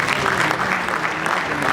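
Audience applause at a church choir concert in Rwanda, steady dense clapping from a crowd filling the whole moment without a break.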